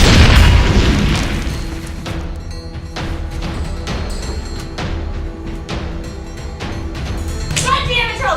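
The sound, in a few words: grenade explosion in film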